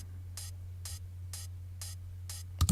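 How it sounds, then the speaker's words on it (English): A hi-hat shaped with EQ8, with the lows and mids rolled off and the high mids lifted slightly, plays alone in five evenly spaced, airy, noisy hits over a steady low hum. A louder transient lands right at the end. "The third one is also a hi-hat, and in this I'm using an EQ8 to roll off the mids and the low ends and boost a little bit of high mids"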